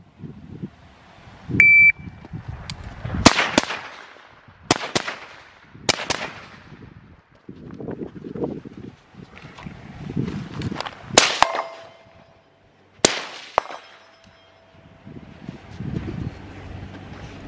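Rifle shots ring out during a timed shooting drill, striking steel targets: about six sharp, loud reports at uneven intervals, some followed by a brief metallic ring. Faint wind and movement noise fill the gaps.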